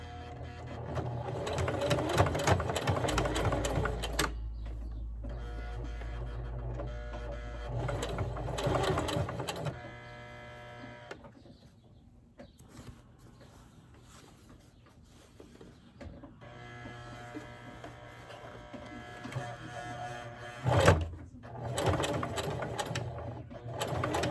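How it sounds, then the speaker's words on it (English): Electric sewing machine back-stitching through layered skirt fabric, several runs of rapid steady whirring, some short and some long, with pauses, fabric handling and a clunk between stitching runs. "always do a back stitch at these corners just to reinforce it"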